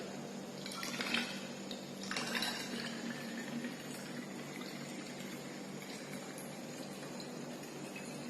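A liquid mixture of two immiscible liquids poured into a glass separatory funnel, a soft trickling and gurgling pour that is loudest at the start and then settles into a faint steady flow.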